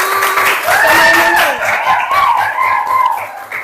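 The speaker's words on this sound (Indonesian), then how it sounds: "Lihat tepuk tangan semuanya" A classroom of students applauding, a short burst of clapping mixed with cheering and excited voices, loud and close.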